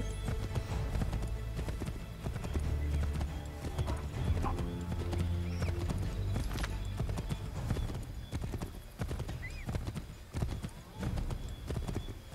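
Horse hooves clip-clop steadily in Assassin's Creed 3, with occasional neighs and whinnies over a game soundtrack and ambient background, fairly close and continuous.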